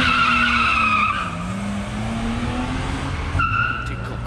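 Car tires at a tuning meet squeal and skid, a loud shrill screech over engine noise that fades, then returns briefly near the end.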